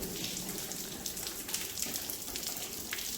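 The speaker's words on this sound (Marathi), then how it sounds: "पाऊस उघडायचं नाव घेत नाही आहे" Monsoon rain falls steadily on the Rajmachi fort trek, a dense, even wash of drops with scattered sharper splashes, continuous and unbroken with no voices.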